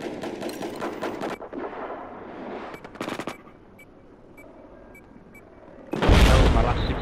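Gunfire in a tank battle video game: rapid machine-gun bursts clatter at the start, fade to quieter scattered shots and a low hum, then a loud, heavy burst breaks out near the end.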